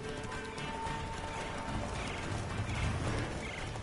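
Roach, the horse in The Witcher 3, gallops across Skellige with steady, continuous clip-clop hoofbeats, close and fairly loud over a dense, busy game soundscape.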